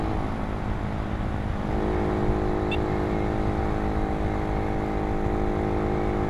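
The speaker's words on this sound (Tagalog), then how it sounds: "Alam mo yung ugong ng makina, hindi siya yung talagang gigil na gigil" A Suzuki Raider 150 motorcycle with a UMA Racing AB9RI spark plug runs smoothly at speed, giving a loud, steady engine drone with even harmonic tones that holds level throughout.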